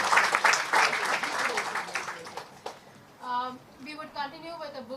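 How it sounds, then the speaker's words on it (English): Audience applause at a book launch in India rings out loudly for the first few seconds, thins into scattered claps, and then a voice takes over. "So big round of applause for doing that."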